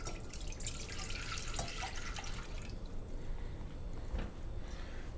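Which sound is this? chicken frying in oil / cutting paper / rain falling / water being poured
water being poured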